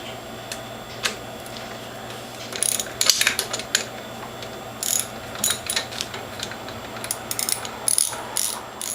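A socket wrench ratchets while removing the reservoir bolt on a Norwalk-style hydraulic juicer, producing close, crisp bursts of rapid clicking in short irregular runs separated by brief pauses, against a quiet background with no speech.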